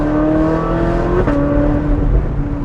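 Ferrari 458 Spider with an iPE exhaust and seven-speed dual-clutch gearbox, its engine holding a high, steady rev that drops sharply at a quick downshift and climbs again, loud and close.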